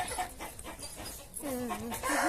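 Several chickens cluck and squawk nearby in a farmyard on a rainy day, with rapid, irregular calls rising toward the end and no talk.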